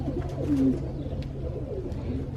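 An injured pigeon with a broken leg gives soft, low cooing calls close by, a few brief murmurs over a quiet steady background.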